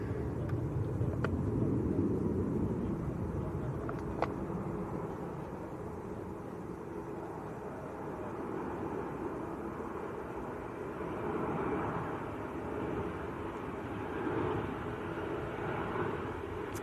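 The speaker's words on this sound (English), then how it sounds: "Next aircraft on short finals is another 737." A Ryanair Boeing 737 on short final into Manchester Airport gives a steady, distant broadband jet roar that swells gently and holds throughout, with no talking.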